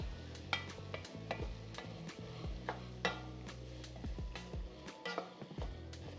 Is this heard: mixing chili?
yes